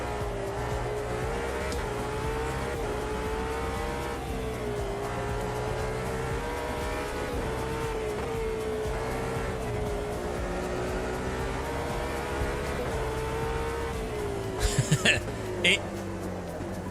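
Racing-game car with loose, sliding handling, its engine droning steadily throughout, with a few brief sharp bursts near the end, while a person talks over it.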